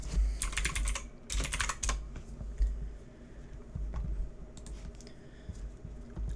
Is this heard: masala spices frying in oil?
no